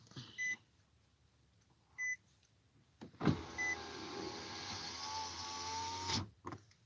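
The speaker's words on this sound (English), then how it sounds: "Let me be a good daughter and put mommy's window up." A car's electric power window motor whirs steadily for about three seconds as the window is raised, bracketed by a few short beeps before and a brief clunk at the end, close and alone without talk.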